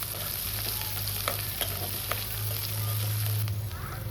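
Onions fry with green chillies and curry leaves in a pan, giving a steady, moderate sizzle with a few soft stirring taps under a low background hum.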